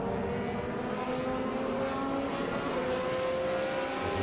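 Race cars roaring at Portland International Raceway during a vintage racing event, a steady distant engine drone with rising and falling revs, no talk.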